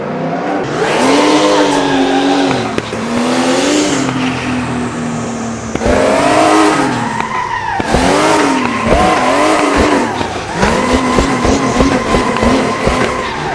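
A drifting car in a racing sim game squeals its tires loudly through long sliding arcs, with rising and falling engine revs and repeated bursts of skidding over about fourteen seconds, no voices present.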